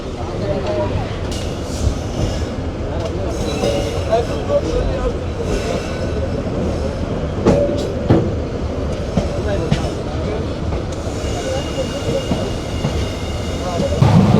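The Chattala Express pulls away from Kasba railway station in Bangladesh with a steady, loud onboard rumble and rattle of wheels and carriages throughout, with people talking faintly beneath.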